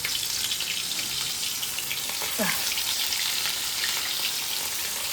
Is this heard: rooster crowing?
no